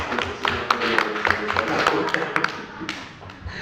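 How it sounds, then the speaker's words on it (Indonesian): An indoor audience claps their hands, a dense patter of overlapping claps with sharp individual smacks, fairly close and lively, tapering slightly toward the end. "Tepuk tangan dulu dong Bapak Ibu ya."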